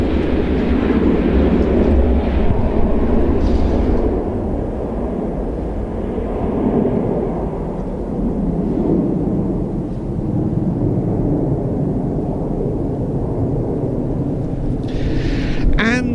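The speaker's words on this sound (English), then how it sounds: "Embraer KC-390." A Portuguese Air Force Embraer KC-390 flies past at an air show, a loud continuous engine roar sweeping by over the whole stretch, steady and rumbling.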